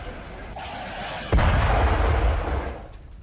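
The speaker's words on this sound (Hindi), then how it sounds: "तो देखिए रूस ने कैसे डोनेस्क में फैब 3000 बॉम्ब से हमला किया है।" A heavy FAB-3000 aerial bomb explodes on a Ukrainian military position in Donetsk: one sudden blast strikes about a third of the way in, followed by a loud, rolling low rumble that slowly fades.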